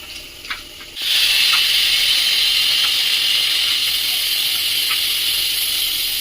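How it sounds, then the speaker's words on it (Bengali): Pressure cooker holding mung dal with mixed vegetables releases steam, a loud, steady hissing whistle that starts abruptly about a second in and continues unbroken to the end, close by with no speech. "এই যে একটা সিটি দিলেই বন্ধ করে দেবো প্রেশার কুকার"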